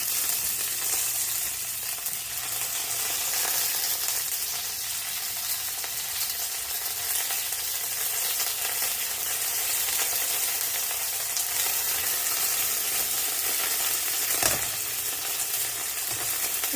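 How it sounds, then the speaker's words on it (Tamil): Dried red chillies and curry leaves fry in hot oil for a spicy Jaffna rasam, giving a steady, close crackling sizzle that holds evenly throughout with no talking. "ஓகே, இப்போ இது பொரிஞ்சு கொண்டு வருது."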